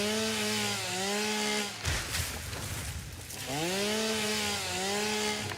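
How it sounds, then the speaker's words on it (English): Chainsaw cutting trees in the video game Satisfactory, a loud close buzzing whine that climbs and dips in pitch in two long runs with a brief rough gap between them. "Can I chainsaw the wild animals?"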